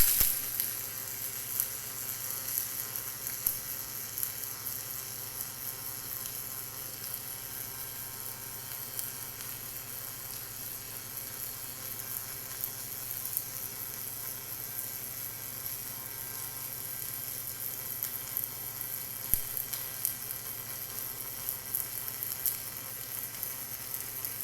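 A Lincoln Electric robotic HyperFill welder laying a single-pass 3/8-inch fillet weld in the 1F position, a continuous close crackling sizzle and buzz holding steady with no talk.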